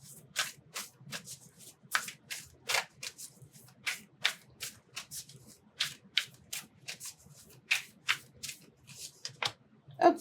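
Tarot cards are shuffled and drawn, producing a series of sharp, papery riffles and slaps in irregular bursts over several seconds, close up and fairly quiet, without talking.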